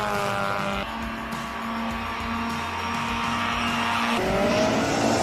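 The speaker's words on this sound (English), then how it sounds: "Carl Brink takes us off in an Austin Cooper S with absolute commitment." A classic Austin Cooper S races up the Simola hill climb, its engine screaming loud and close through rising gear pulls, with a short shift break and tire noise, and no voices over it.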